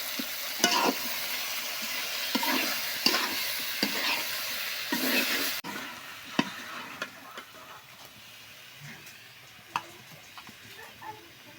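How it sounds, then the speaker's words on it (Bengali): Malabar spinach greens (puin shak) being stir-fried: a steady close sizzle with repeated scraping and clicking strokes of the spatula against the pan, louder in the first half and then easing. "এক গামলা শাক ভাজি করব।"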